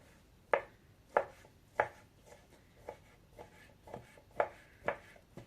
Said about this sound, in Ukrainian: Беремо по швиденькому нарізаємо дрібно наше відварене м'язко.